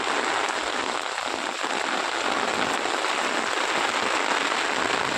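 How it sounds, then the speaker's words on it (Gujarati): Heavy rain falls without a break over farm fields in Banaskantha, where groundnut plots lie waterlogged. It is a loud, dense, even hiss with no voices. "વરસાદ ચાલુ જ છે બધી બાજુ"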